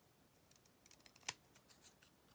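Scissors snip through card in a few quick, faint cuts, one sharper clip standing out near the middle, close up in an otherwise quiet room with no voices.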